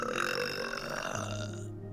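A long, drawn-out burp from a young woman who burps as her living, loud and close, rumbling for almost two seconds before it cuts off.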